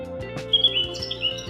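Birds chirp and tweet in a morning outdoor setting, a few bright high calls rising over a steady, softly humming background, moderately close and without any voices.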